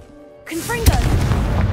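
The Confringo blasting spell in Hogwarts Legacy goes off as a sudden loud burst after a quiet moment, followed by a sustained crackling, rumbling roar with a brief sharp peak just after the blast.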